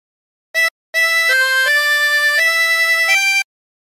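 A tremolo harmonica plays a melody phrase: one short clipped note, then a run of held, wavering notes stepping up and down in pitch, played alone in a quiet room.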